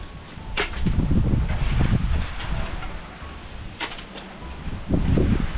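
Gusty wind rushes and rustles through leaves outdoors, rising and falling in loud broadband swells with a few sharper flutters, no voices present.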